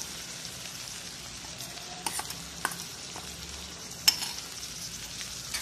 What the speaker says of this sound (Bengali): মশলাটা দেওয়া হয়ে গেছে, ভালো করে কষিয়ে নেব।